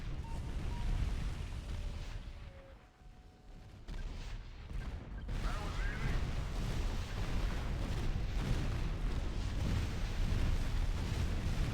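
The Resistance flagship's 73mm naval cannons in Art of War 3 pound enemy buildings, a dense, continuous roar of blasts and booming impacts that dips briefly then builds into a heavy, rumbling barrage.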